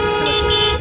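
A car horn sounds one sustained, loud, tonal honk in traffic during a driving lesson, cutting off just before the end.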